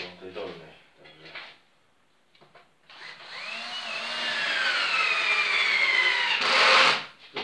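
A Black & Decker cordless power drill whines up to a steady high-pitched run, rising in speed for a few seconds before cutting off, with a short stretch of speech before it starts.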